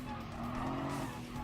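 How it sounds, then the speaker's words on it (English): A rally car slides under handbrake in the Gran Turismo Sport racing game, a continuous engine roar blended with tire skid noise, steady and loud throughout. "Just give it a bit of handbrake and slide out wide."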